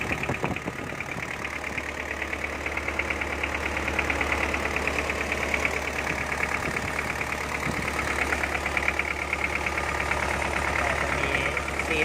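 The diesel engine of a Kubota M5000 tractor idles steadily and close by, with a low rhythmic knocking throb and constant vibration throughout, no voices.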